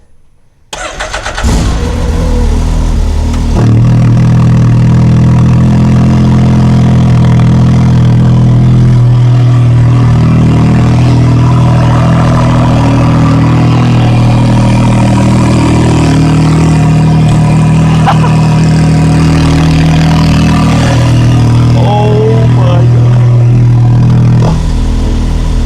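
Car fitted with a titanium exhaust cranks over and fires up with a loud bark, then settles into a steady, deep, throbbing idle with slight fluctuations, close and dominant throughout.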